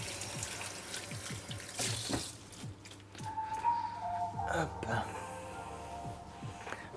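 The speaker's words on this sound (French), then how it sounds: "Rincer le riz" Running tap water pouring over rice being rinsed in a pot, a steady wash with small splashes and clinks, under a person talking.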